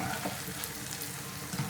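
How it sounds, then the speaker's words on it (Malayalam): Cauliflower frying in vegetable oil in a pan makes a soft, steady crackling sizzle with faint pops, quiet and close, with no voices over it. "അതാ കോളിഫ്ലവറും ഫ്രൈ ആയിട്ട് വന്നു തുടങ്ങിയിട്ടുണ്ട്."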